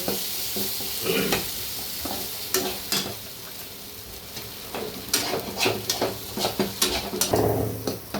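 Spiced masala fries in oil as it is stirred for a dry mutton dish, with an ongoing sizzle under repeated close scrapes and taps of a spoon against the pan.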